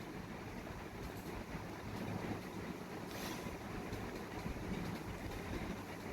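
Boat ride on the Ganges river heading toward Uttarpara: a steady broadband rush of water and wind against the hull, with a low engine-like rumble running continuously throughout.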